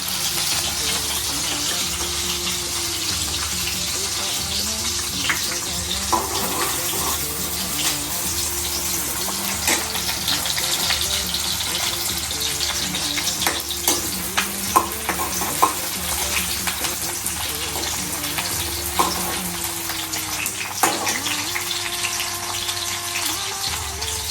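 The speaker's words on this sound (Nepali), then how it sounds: "टमाटर भुट्नेछु।" Onions and tomatoes frying in hot oil for a mushroom dish give a steady, close sizzle, with occasional stirring scrapes and small clatters throughout.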